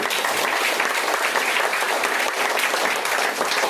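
Loud, dense applause from the audience at a product training program in Raghopur, Supaul, Bihar, a continuous crowd of clapping hands that holds steady for the whole stretch.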